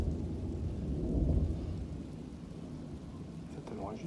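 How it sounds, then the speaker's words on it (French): Very violent summer thunderstorm over Clermont-Ferrand in Auvergne: deep rolling thunder swells and rumbles through steady rain, fairly faint and distant, with no clear talking. "J'ai l'orage du siècle, là."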